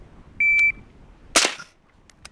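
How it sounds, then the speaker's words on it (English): A shot timer set on the ground at an outdoor shooting range gives one short electronic beep, followed about a second later by a single sharp, quiet rifle shot from an MK12 SPR. "we had to put the shot timer on the ground out in front"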